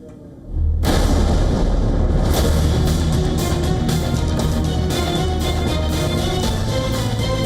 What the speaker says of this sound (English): The air crackles with the raw power of explosions.